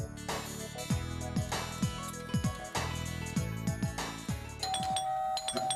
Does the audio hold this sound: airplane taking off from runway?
no